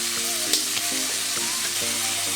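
Red onions and peppers sweat in a pan with a sprig of rosemary, a steady close sizzle with faint stirring clicks running throughout, no talk.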